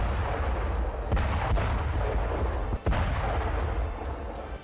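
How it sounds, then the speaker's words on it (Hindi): Heavy explosions and booming blasts from an Iranian navy missile and shell attack on a dummy US warship at sea rumble continuously, with several sharp cracks punching through a dense, roaring wash of noise. "ईरान की नौसेना ने यूएस नेवी के डमी युद्धपोत पर मिसाइलों और बम गोले से हमला कर दिया"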